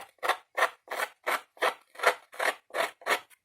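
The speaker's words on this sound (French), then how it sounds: "C'est plus délicat, mais voilà, ça se fait avec les ciseaux." Nine rhythmic scraping strokes of scissors blades along paper edges to age a Harry Potter mini album insert, each stroke a close, crisp rasp at an even pace, alone with no talk.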